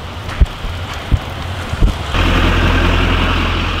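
Rain falls during the 2018 Des Moines River flooding in Jackson, Minnesota, as a broad steady hiss with a few dull knocks early on, then swells into a louder, denser wash for the second half.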